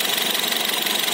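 Idling engine of a 2017 Honda HR-V 1.5 E CVT, a steady rapid ticking chatter from the engine bay, close and even, with no talk over it.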